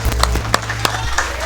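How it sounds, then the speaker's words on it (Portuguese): A church congregation claps together, giving a handful of sharp, evenly spaced claps over a low background drone, with a voice speaking alongside. "Aplauda ao Senhor em nome de Jesus."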